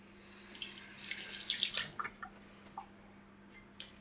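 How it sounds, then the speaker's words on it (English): A kitchen tap runs as hands are washed under it, a close steady splashing stream for about two seconds, then a few scattered drips and small splashes as it stops. "Let me just wash my hands."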